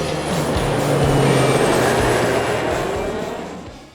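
Inside a moving TransPennine Express train, a steady low rumble fills the carriage, with rhythmic clickety-clack thumps from the wheels passing over rail joints. It swells slightly, then fades toward the end, and no one speaks.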